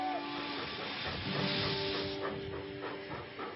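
A steady steam hiss with a rumbling engine and faint rhythmic chuffing from an old steam train running along a river, at moderate distance.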